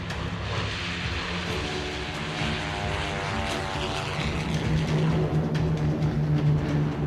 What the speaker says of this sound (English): 3 columns of Luftwaffe aircraft attack from a more southerly route